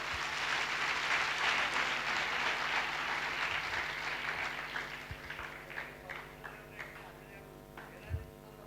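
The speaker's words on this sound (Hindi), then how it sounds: "वन श्रावकों वास्ते एक बार जोरदार तालियां" An audience at a farewell ceremony in Karad breaks into loud, sustained clapping that thins after a few seconds into scattered, fading claps.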